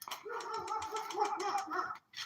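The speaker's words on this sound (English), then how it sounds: "The neighbor's dog is arguing with the cat." A neighbor's dog barks and growls at a cat in a continuous, agitated run of close, fairly loud barks lasting about two seconds, then a brief pause before another bark.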